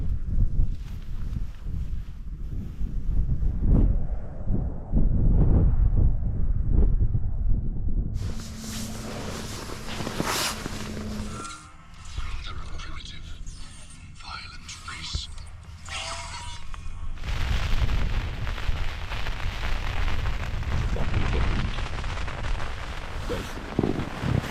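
Strong wind buffets the side of a Berghaus Cheviot 2 four-season tent, giving loud, sustained roaring gusts that change character and intensity several times, with steady rushing and flapping and no clear talk.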